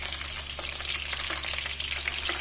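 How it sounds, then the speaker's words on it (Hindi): Stuffed bell peppers (shimla mirch) fry in a pan with a steady, soft crackling sizzle and scattered pops, close and quiet, with no voices. "अब इसे चारों तरफ से फ्राई कर लेना है।"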